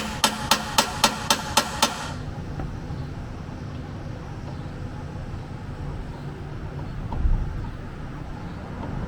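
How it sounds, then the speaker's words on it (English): Hammer driving a rear subframe sleeve into a car: seven sharp, evenly spaced metallic strikes in quick succession, then a low steady background hum with no further blows. "the noise of the hammer will make a little bit different sound."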